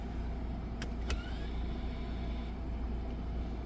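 The electric parking brake on a 2022 Mitsubishi Outlander engages with a brief motor whir after two short clicks, heard up close over a low steady hum.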